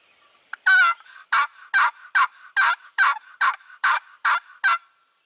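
A loud, close series of about nine rapid clucking or yelping calls in an even rhythm during a spring turkey hunt, clear against a quiet background; the calls may come from a hunter's turkey call imitating hens.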